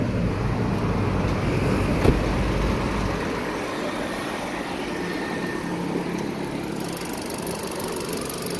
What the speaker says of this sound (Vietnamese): Đây em sẽ mở máy cho mọi người xem nhé, cái phần phăng máy của xe nhé.